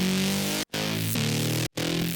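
A reese bass synth patch built from two detuned saw waves with the detune set to zero drones steadily and loudly, cut by two short silent gaps, with no one talking.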